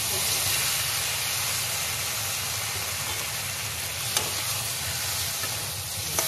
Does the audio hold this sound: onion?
yes